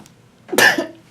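A single sharp sneeze bursts out loudly and briefly in an indoor room, then quiet returns and a voice begins to speak at the very end.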